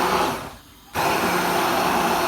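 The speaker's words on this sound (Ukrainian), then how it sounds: "Збиваємо блендером." A blender runs loudly, mixing homemade yogurt into a cocktail. Its steady motor roar dips and nearly stops for a moment, then surges back up and keeps going at full power.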